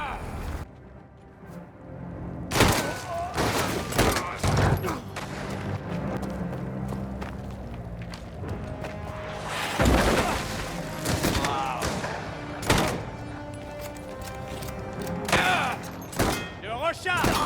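Shotgun gunfire in the Mafia video game, heavy booming blasts and thuds scattered through a dense, continuous din of game noise, with someone talking over the action.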